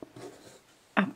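A pencil draws a short line on fabric while a sun cover for children is being made: two brief scratchy strokes, close and fairly quiet, with no talk.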